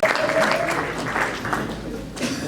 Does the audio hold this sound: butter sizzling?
no